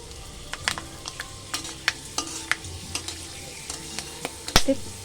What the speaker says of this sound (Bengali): তেলটা আমার গরম হয়ে গেছে এবার গোটা গরম মশলা গোলমরিচ দারচিনি লবঙ্গ এলাচ সব কিছু দিয়ে এটা ফোড়ন দিয়ে দিচ্ছি